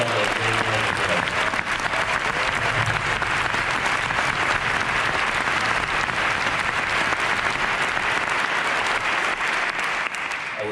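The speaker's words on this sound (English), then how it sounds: "Let us please give Mike and that ensemble a great round of applause" A concert audience gives a band ensemble a full, sustained round of applause, dense and even clapping from many hands that continues loudly for the whole stretch.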